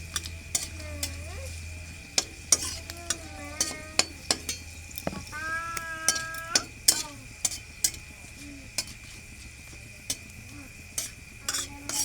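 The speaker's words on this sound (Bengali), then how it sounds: "দেব 5 ফোড়ন" Five-spice tempering sizzles in hot oil for a Bengali bichir dal, a steady close fry under repeated sharp clicks of a spoon stirring against the pan, with a brief voice partway through.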